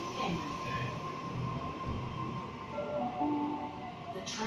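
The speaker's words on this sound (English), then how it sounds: "And the Tangara now departing." A Sydney Tangara electric train pulls away from a station platform with a low rolling rumble, a faint whine and brief squeals of wheels, heard from nearby.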